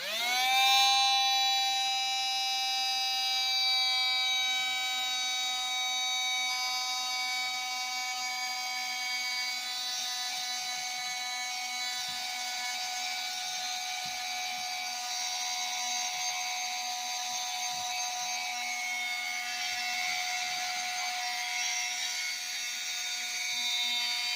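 A modified Woodland Scenics Model-Vac fitted with a regular filter runs continuously, giving a steady high, whiny motor tone that spins up at the start and holds fairly loud and close with no talk.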